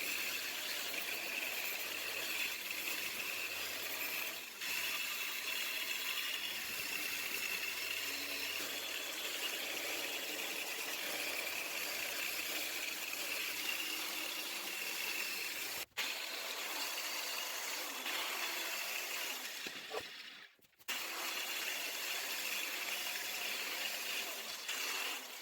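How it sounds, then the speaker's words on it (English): A wire wheel scrubs rust from an old benchtop drill press, making a continuous close whirring and grinding drone that runs steadily and breaks off briefly a few times, with no talk. "we get a little wire wheel set up, and let's clean her up"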